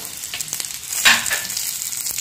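Asafoetida, chilli, cumin, sesame and mustard seeds crackle in a little hot oil, a close, steady sizzle with a brief louder burst of spitting partway through, no voices.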